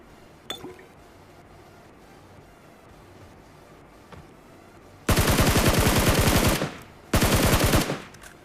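Rapid automatic gunfire from an AMR in a mobile battle-royale shooter game, two loud sustained bursts of about a second and a half each, preceded by a few faint isolated shots and quiet ambience.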